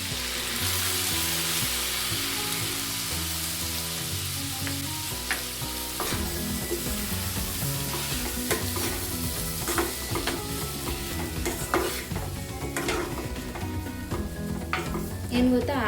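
Chopped tomatoes sizzle and fry with onions in a pan for a Kannada tomato onion gojju, a steady loud crackle running throughout with occasional stirring scrapes and clinks of a utensil.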